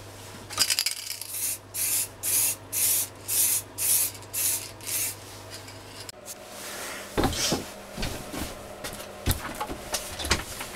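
Spray paint hisses in a series of about eight short, regular bursts onto a throttle quadrant handle for an A320 simulator build, followed by scattered handling clatter and light knocks nearby, with no talk.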